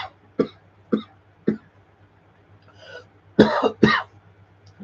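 A person coughs three times in sharp, evenly spaced bursts, then lets out a quieter raspy throat sound and finishes with two louder, harsher throat clears, all close and alone over a faint low hum.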